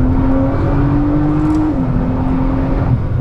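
A 2012 Nissan GT-R sports car heard from inside, its engine and gearbox making a loud steady drone with a whining tone that drops slightly partway through, as during a shift, with no talking.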